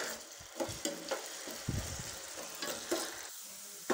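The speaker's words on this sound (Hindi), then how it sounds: "आलू हमने 2 से 3 मिनट फ्राई कर लिए हैं।" Potatoes frying in a pan over a medium flame, a fairly quiet sizzle broken by several short stirring scrapes and clatters across the few seconds.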